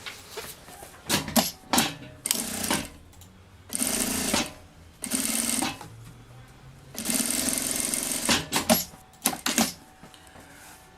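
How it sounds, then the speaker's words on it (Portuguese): A sewing machine stitches fabric for a child's backpack in a series of fast mechanical whirring bursts, some short and some running a couple of seconds, with quiet pauses between them and no talking. "E aqui eu vou passar uma costura de um pé de máquina."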